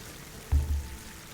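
A brief splash of water in Horizon Forbidden West, a single soft pour-like gush that swells and fades within a second against quiet ambience.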